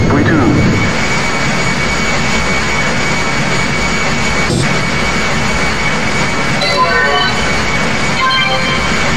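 A DC-10-40 airliner in the game Jet De Go! 2 spools up for takeoff from Kansai, its jet engine roar filling the cabin as a loud, steady, unbroken rumble and whine.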